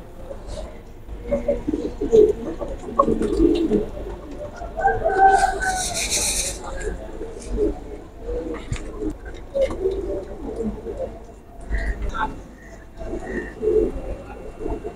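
Royal teddy pigeons coo in a loft, soft repeated throaty calls rising and falling across the whole stretch amid steady background noise, with other bird sounds mixed in.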